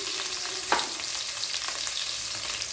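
Potatoes fry in oil in a pan with a continuous, even sizzle, broken once early on by a sharp clack of a utensil against the pan.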